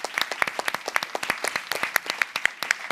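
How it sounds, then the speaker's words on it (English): Dense applause from a crowd, many hands clapping in a steady rapid patter throughout, fairly close and moderately loud. "Let's give a round of applause to all of you."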